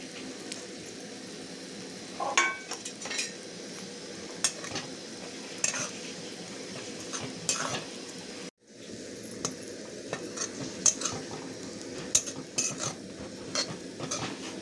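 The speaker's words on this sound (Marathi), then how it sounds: "अशा पद्धतीने भाजून घ्यायचे. सगळे बोंबील लालसर भाजायचे" Dried bombil fish roasts in oil in a pan, giving a constant low sizzle broken by repeated close scrapes and clinks of a metal spoon stirring, with a brief dropout partway through and no voices.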